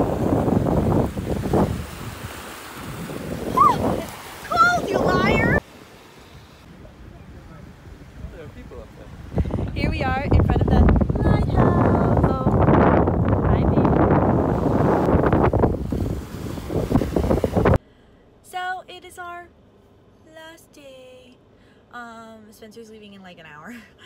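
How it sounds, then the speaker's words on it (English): Strong wind buffeting the microphone at a beach, with surf beneath it, heavy rumbling gusts that cut in and out, while people talk over it close by. "It is so windy."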